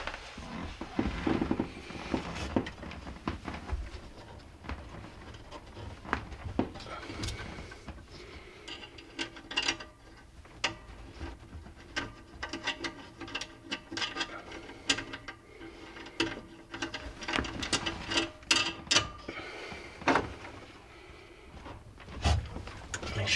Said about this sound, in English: We're just tighten the screws in the back